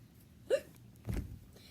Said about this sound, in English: Oh no, Pluto also has the hiccup.